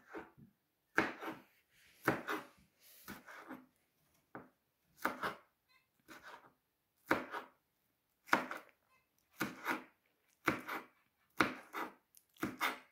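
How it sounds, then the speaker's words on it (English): A six-year-old girl chops spring onion with a knife on a board: crisp, evenly spaced thuds in short bursts of two or three strokes, close and clear with quiet pauses between, no voices. "So you finish cutting the spring onion?"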